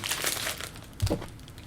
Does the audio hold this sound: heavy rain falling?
no